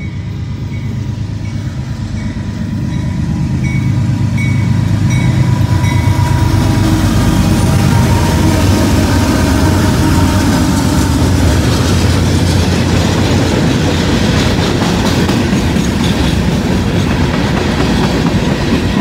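A CSX mixed manifest freight train rolls past close and loud, its wheels clattering in a steady clickety-clack over a heavy low rumble that holds for the whole stretch with no voices.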